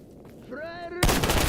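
Gunfire erupts abruptly in Stalker GAMMA, a sharp loud burst of shots following a short rising tonal whine, close and dense until the end.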